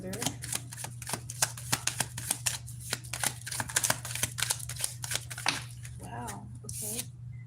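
A deck of tarot cards being shuffled close up, a rapid run of crisp riffling flicks and slaps over a steady low hum, with a voice briefly heard near the end.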